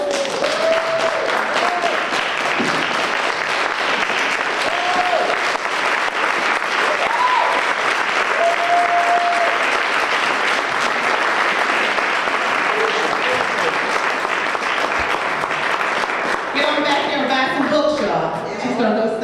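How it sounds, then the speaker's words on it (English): A book signing audience in Newark, NJ breaks into sustained, loud applause that carries steadily from start to finish, with a few voices and cheers rising over the clapping and talk emerging near the end. "So will everybody join me in a round of applause?"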